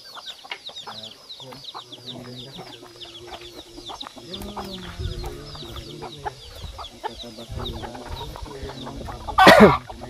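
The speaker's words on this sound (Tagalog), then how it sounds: "Yung mga yung manok ni Pilimon dito" Several chickens cluck and chirp steadily in the background, with low murmuring voices and a brief loud rustle near the end.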